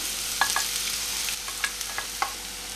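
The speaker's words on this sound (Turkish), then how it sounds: "Yağımın dörtte birini tavaya boşalttım. Doğramış olduğum soğanlarımı" Onions sizzle softly in hot oil, with a few scattered pops and crackles over a steady low hiss.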